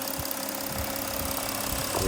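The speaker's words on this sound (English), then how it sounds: "V6 diesel, which has got plenty of torque, and it's just a great engine" A 2015 Porsche Cayenne 3.0d S with a V6 diesel engine runs at a steady idle, a low constant rumble with slight knocking texture, recorded close up and continuous throughout.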